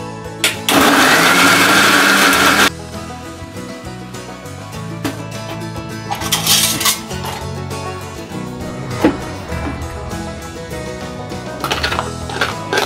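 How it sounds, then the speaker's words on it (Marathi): A mixer grinder blends a tomato soup mixture for a creamy tomato saar, opening with a loud, steady whir for a few seconds, then running on at lower, uneven grinding bursts, close and without talk. "एकीकडे आता मी हे वाटून घेत आहे मिश्रण."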